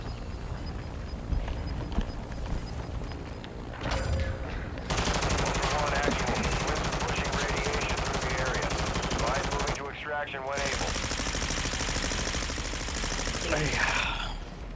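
Machine gun fire crackles in Call of Duty: Modern Warfare II DMZ, with rapid bursts and rattling volleys among the game's battle ambience, partly under a player talking.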